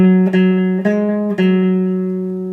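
Electric guitar picks a short riff, three quick sharp attacks ringing into a sustained tone, loud and close with no talking.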